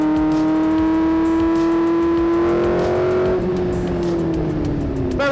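A formula race car engine with a simple direct gearbox revs loud and close, holding a steady high drone, then dropping in pitch as the revs fall, with no voices.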